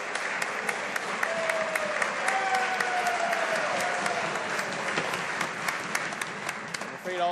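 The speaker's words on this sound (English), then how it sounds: "all that applause ate up quite a bit of the Minister's time." Sustained applause and desk-thumping from members in the House of Commons, a steady dense roar of clapping with sharp individual claps throughout, a murmur of voices underneath.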